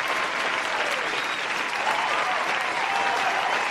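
Applause on a livestream, a dense, even wash of clapping and crowd noise that holds steady and fairly loud throughout, with no break.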